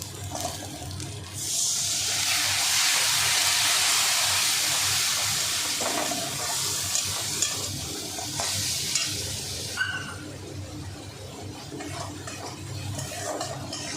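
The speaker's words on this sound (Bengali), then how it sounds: "মশলাটা যাতে না পড়ে সেই জন্য আমি এর মধ্যে একটু জল দিয়ে দেবো" Water splashed into spice paste frying in a pan with melted tomato, for a taro-leaf dish, giving a loud steady sizzle and hiss that swells after a quiet start and then settles into softer bubbling, with faint stirring clatter.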